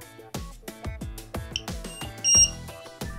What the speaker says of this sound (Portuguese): vou precisar aqui de um LiPo alarme, né? Para saber a voltagem correta